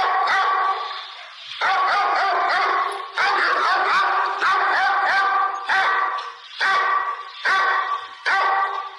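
A house dog barks loudly and repeatedly, close by, in bursts of several barks separated by short pauses, with no talk over it.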